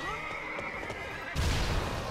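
A horse in the Zelda Hyrule Warriors video game gives a loud, drawn-out whinny, and a burst of thudding action noise follows right after.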